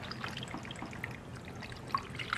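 Water pours into a pot of pork with a steady trickling splash, close by and moderately quiet, with a couple of brief drips near the end and no talk over it.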